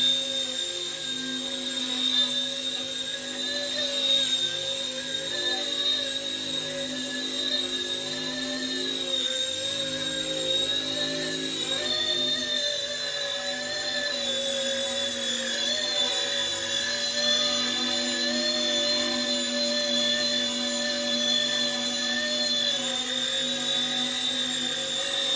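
Small Airbus H145 RC helicopter by RC ERA, model C190, hovering on its maiden flight, producing a steady, loud high-pitched whine from rotor and motor with slight pitch wobble, continuous throughout with no talk.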